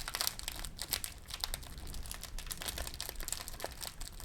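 Plastic LEGO packaging crinkles steadily and close by during the build of a Disney Steamboat Willie set, a dense run of crackling rustles with a few sharper crunches and no talking.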